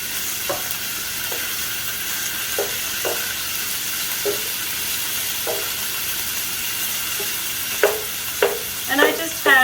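Chicken stir-fries in a little canola oil in a pan on medium-high heat, giving a steady hiss of sizzling with scattered clicks and scrapes of stirring that grow busier toward the end.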